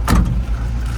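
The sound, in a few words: riding in a vehicle, engine running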